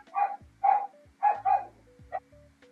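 Two dogs bark back and forth at each other in a series of sharp, separate barks at a moderate distance, with short pauses between the bursts and a faint steady hum running underneath.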